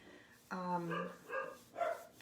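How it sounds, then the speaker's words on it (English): A few close, high-pitched barks from a small dachshund, short and spaced out in a quick series. "they're dachshunds, and that's what dachshunds do. They bark a lot."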